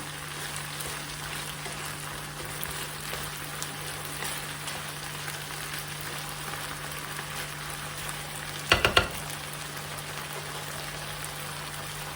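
Sliced mushrooms and chopped green pepper sautéing in a pan: a steady, even sizzle like light rain, with a short clatter of utensils near the end.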